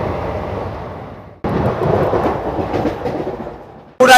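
The Haldibari Superfast Express runs out of Rampurhat Junction toward Pakur, a steady heavy rumble of wheels and carriage noise that drops briefly, returns loud, then cuts sharply near the end.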